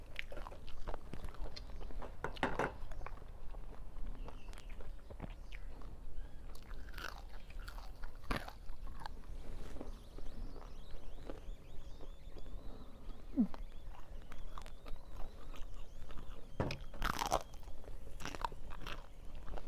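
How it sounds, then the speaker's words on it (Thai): Thin, crispy grilled sticky rice bitten and chewed up close, with sharp crunches scattered irregularly over steady chewing throughout. "มากินข้าจีแบบแผ่นบางๆ กรอบๆ"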